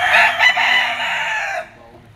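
A bull stag gamecock crows once, loud and close, its drawn-out call fading out after about a second and a half amid a busy gamefowl market in Lipa, Batangas.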